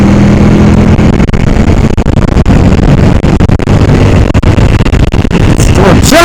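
A motorcycle rides along with a loud, continuous engine drone and heavy wind buffeting, captured close up on a DJI Osmo Action 4 action camera, with no talking.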